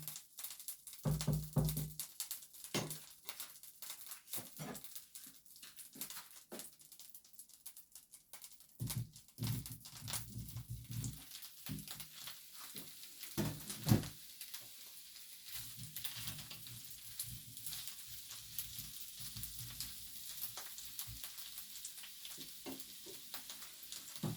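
Brussels sprouts tumble into a hot buttered pan and sizzle, with stirring scrapes and rattles over a continuous low frying hiss, close and fairly quiet, no voices.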